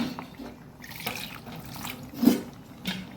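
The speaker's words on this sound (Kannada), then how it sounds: "ಈಗ ಇದಕ್ಕೆ ಸ್ವಲ್ಪ ನೀರನ್ನು ಹಾಕೊಳ್ಳೋಣ." Water poured into a pot of Mangalorean-style sambar while cooking, a soft liquid trickle and splash with a brief louder splash near the end, heard close and alone without talk.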